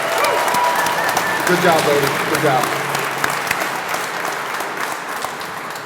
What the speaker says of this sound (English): Another round of applause for our couple speakers right here.